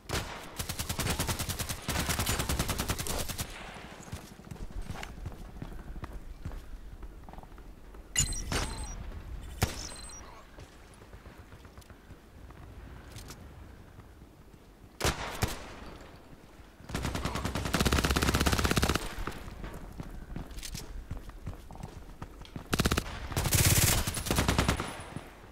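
Bursts of gunfire in a shooter video game, sharp and loud, come in separate volleys with quiet gaps between them, some rapid like machine-gun fire, with occasional talk in between.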